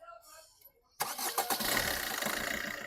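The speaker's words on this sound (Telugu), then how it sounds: "సింగిల్ సెల్ఫ్లో బండి స్టార్ట్ అవుతుంది సార్, ఎటువంటి స్టార్టింగ్ ట్రబుల్ అయితే లేదు" A 2017 Maruti Suzuki Ciaz Alpha diesel car engine cranks and catches after a quiet moment, then settles into a loud, steady diesel idle.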